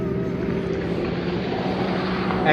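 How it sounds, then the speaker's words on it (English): A steady, loud motor drone with a constant rumble of motorboat traffic passing close by a kayak at a tunnel exit into open water, continuous without pause. "You've got boat traffic right outside this tunnel, it sounds like."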